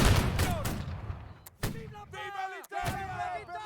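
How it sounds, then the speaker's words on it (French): A volley of rifle shots fired into the air at a Napoleonic bicentenary reenactment rings out as several sharp cracks, followed by crowd shouting and cheering. "quelques tirs en l'air"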